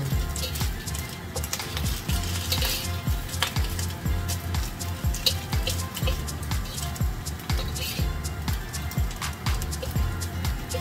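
Slices of luncheon meat fry in hot oil in a pan, a busy crackling sizzle with frequent sharp pops and spits running continuously at close range and moderate loudness.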